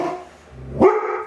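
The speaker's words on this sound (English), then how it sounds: "You don't need to bark." A dog barks once, loud and close, a single sharp bark cutting through a quiet indoor room.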